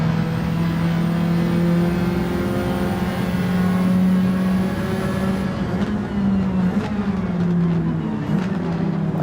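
Ferrari race car engine in a racing video game, a loud sustained whine shifting pitch as it revs and changes gear, other cars faintly around, no talking.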